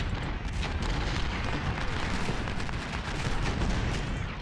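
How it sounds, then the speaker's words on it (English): Artillery firing case shot in a battle game, a continuous roar of heavy booming and gunfire that stays loud throughout with no pause. "There's the case shot."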